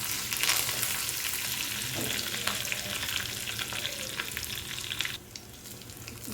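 Tempering spices and onions frying in hot oil for a pesarapappu dal, a loud continuous sizzle with scraping stirs that eases slightly toward the end, close by, no talking.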